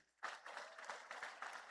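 A church congregation bursts into sudden applause at a conference in Beberibe, Ceará, and the clapping holds as a dense, steady crowd of hands over the short stretch.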